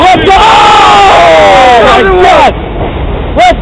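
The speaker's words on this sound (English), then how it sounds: "The fans are cheering!" Loud crowd at a wrestling event cheering and yelling, with rising and falling chant-like voices that fill the space before dropping back briefly.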